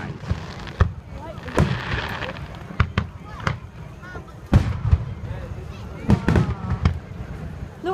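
Fourth of July fireworks burst over Charleston, South Carolina, a string of sharp, loud bangs with crackling tails at irregular intervals, while a crowd murmurs and reacts in the background.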